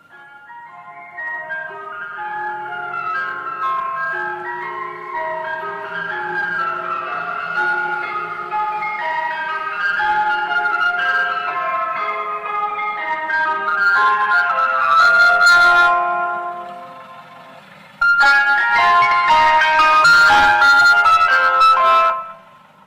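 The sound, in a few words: the tune Greensleeves played from a video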